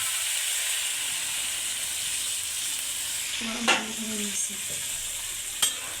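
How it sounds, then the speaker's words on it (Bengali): Hot water is poured into a frying pan of potatoes, where a steady sizzle and hiss continue with a couple of brief clatters and a short burst of steam partway through. "গরম পানি করা ছিল আলাদা সেটাই দিয়ে দিলাম"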